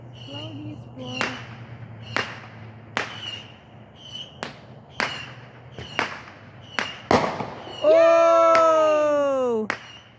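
New Year 2024 fireworks go off close by as a string of sharp, evenly spaced bangs, then a loud dense burst of whistling, crackling rockets near the end.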